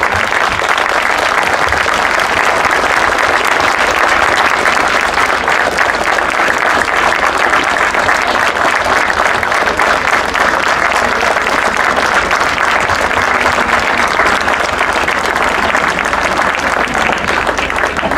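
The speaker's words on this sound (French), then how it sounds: "Je voudrais que tout le monde l'applaudisse vraiment bien fort" Loud, sustained applause from a large crowd at a Grand Prix cycling race in Lillers, steady and dense throughout with no break.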